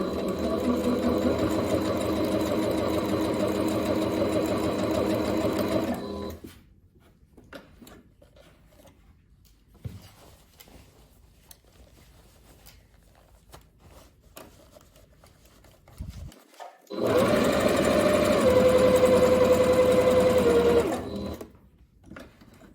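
A sewing machine stitches fabric for shirred waist pants, running loudly up close for several seconds, going quiet with soft handling noises, then starting another steady run.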